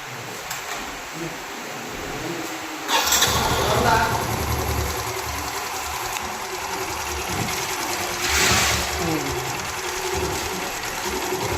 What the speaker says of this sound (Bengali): এবার আমরা একবার স্টার্ট করে দেখে দেবো সাউন্ডটা